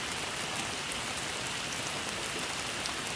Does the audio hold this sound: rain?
yes